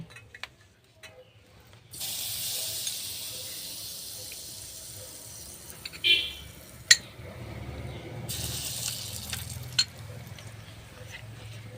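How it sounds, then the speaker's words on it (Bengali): Potatoes drop into hot mustard oil seasoned with salt and turmeric in a wok, bursting into a broad, steady hiss of frying with a few sharp clinks of utensils, quiet and close. "তারপর আমি আলুগুলো দিয়ে ভেজে নেব"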